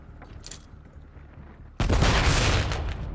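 Gunfire in the video game Call of Duty Modern Warfare III, a loud dense burst of rapid shots erupting suddenly after a quieter stretch with faint earlier pops.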